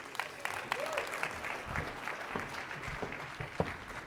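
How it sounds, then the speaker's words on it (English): An audience at the TechCrunch Disrupt 2024 Startup Battlefield applauds, with fairly faint, scattered claps and a few sharper individual hits. Murmured voices sit underneath. "Round of applause,"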